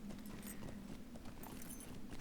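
A horse mount's hooves clip-clop in a video game, a quiet, steady run of soft hoofbeats over a low background hum.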